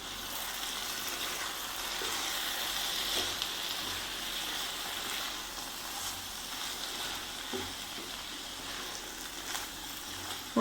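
Garlic chicken is stirred in a pan, giving a steady low sizzle with faint scraping and shuffling throughout, fairly quiet and close with no talking.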